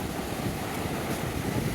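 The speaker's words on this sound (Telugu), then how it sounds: "సో ఆ వేవ్ సౌండ్ను మీరు వినొచ్చు" Sea waves rolling at Suryalanka beach in the early winter morning, a constant broad roar of surf mixed with wind buffeting the microphone, steady and moderately loud, no voices.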